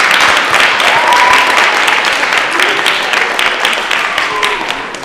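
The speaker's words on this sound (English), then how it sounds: "So please give her a really big round of applause." A school audience applauds a retiring teacher at a district-wide art show, a dense sustained round of clapping that slowly tapers off over several seconds.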